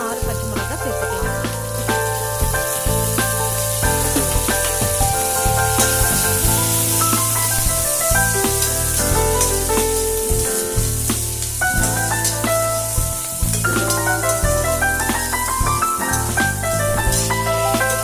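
Small peeled shallots, a large piece of ginger and green chilies frying in hot oil in a pan, a steady loud sizzle running throughout with occasional stirring clatter, no talk.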